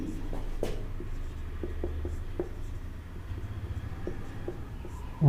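Chalk or marker writing on a board during a chemistry lesson, a series of short scratchy strokes at close range under a steady low room hum, with no speech.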